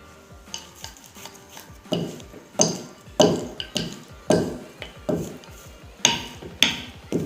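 Hands pat and slap homemade parotta dough in a kitchen, about a dozen sharp, close slaps in an uneven rhythm, some faint clinks and a soft sizzle in the background.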